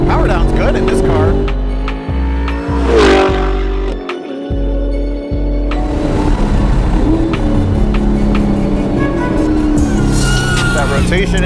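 A Chevrolet C7 Corvette on Falken tires accelerates down a race track straight, its engine roaring loud and continuous with rising revs and a brief lift between gear changes, while a driver talks over it.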